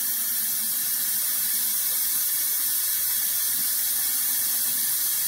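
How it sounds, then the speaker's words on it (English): Water running into a portable washing machine while draining straight back out, a steady hissing, splashing flow close by, continuous and fairly faint, without talk. "as the water's going in, it's coming right back out"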